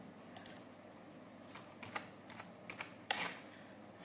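Sparse, soft keystrokes on a computer keyboard tap out irregularly at moderate distance, a few isolated clicks over quiet room background.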